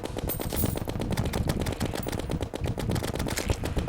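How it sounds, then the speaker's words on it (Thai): Rapid automatic fire from the Minishark gun in Terraria, a dense, continuous stream of quick shots keeping an even rhythm throughout, loud and without any talk. "กับปืนที่ผมใช้ตอนนี้ก็คือปืนมินิชาร์ก"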